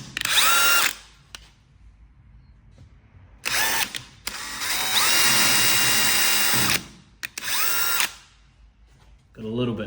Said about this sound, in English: First step, drilling the pilot holes in.